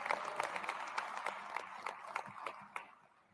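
Applause from a crowd after Governor Murphy's speech, brisk scattered clapping that gradually thins and fades out, heard somewhat faintly.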